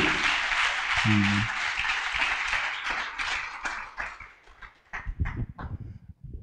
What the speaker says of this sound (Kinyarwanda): Voilà, est-ce qu'on peut applaudir?